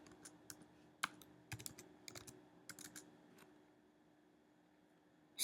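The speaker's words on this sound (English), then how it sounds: "I'm going to type in Century" Typing on a computer keyboard while setting type, with sparse clicks and short bursts of quick keystrokes, close and fairly quiet, then a louder clack at the very end.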